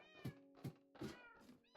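Several short, high, mewing cat calls from Minecraft cats follow one another in an uneven rhythm, close and clear with no talk over them.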